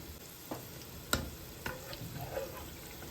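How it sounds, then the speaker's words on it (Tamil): Palmyra fruit paniyaram sweets frying in hot oil, a steady soft sizzle with a few sharp pops and stirring clicks, close by and with no voices. "அவங்க பெனங்காய் பணியாரம் பொரிஞ்சு கொண்டு இருக்குது"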